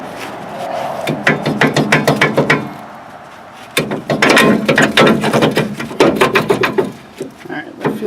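A ratchet clicks in rapid bursts of pawl clicks while adjusting the emergency brake on a 2005-2015 Nissan Frontier, with close, loud metallic ticking separated by a brief pause.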